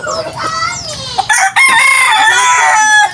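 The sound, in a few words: chickens clucking and rooster crowing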